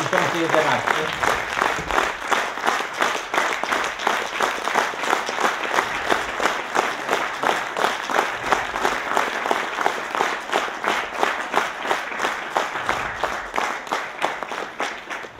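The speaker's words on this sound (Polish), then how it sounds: "Ogromne brawa dla laureata" An audience claps in rhythmic unison for the Sierpczanin Roku 2011 award laureate, a steady pulsing beat of many hands that continues evenly throughout, with faint voices mixed in.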